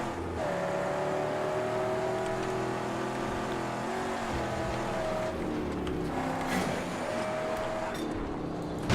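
Engines of enemy vehicles in the Mad Max video game drone steadily throughout, a continuous motor hum with shifting pitch as the cars drive off, loud and unbroken with no talk.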